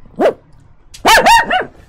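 A dog gives one short bark, then after a pause a quick louder run of two or three barks, close and sharp, with no talking.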